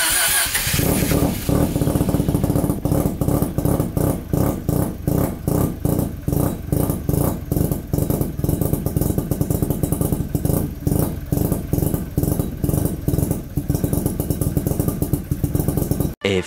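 Bridgeport 13B-REW rotary engine in a Project 818 SRX, idling loud and close just after its first start, with a fast, even pulsing beat that holds steady throughout before cutting off at the end.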